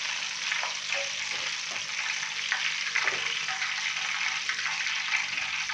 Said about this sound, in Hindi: तो फ़िश को मैंने तकरीबन 7 से 8 मिनट बहुत ही अच्छे से फ्राई कर लिया है।